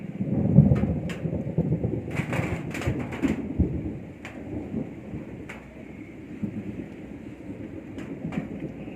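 Deep rolling thunder rumbles beneath steady rainfall, with a few sharper cracks standing out over the continuous patter.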